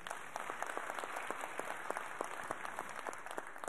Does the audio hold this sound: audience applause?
yes